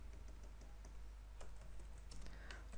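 Keys on a computer keyboard are tapped quietly and irregularly at close range, a soft patter of small clicks over low room hum, with no voice over it.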